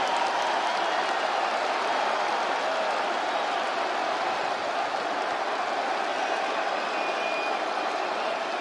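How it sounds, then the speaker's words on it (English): A UFC arena crowd applauds the welterweight champion Leon in a dense, sustained wash of clapping and murmur lasting several seconds, steady and loud throughout. "Listen to him, Leon. Listen to the crowd. Pay appreciations to their champion."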